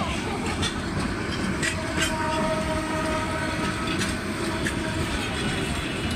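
A Dhaka-bound train from Joydebpur and Tongi station rolls along on the wrong line with a constant loud rumble and rattle, a drawn-out horn tone faintly audible within the noise.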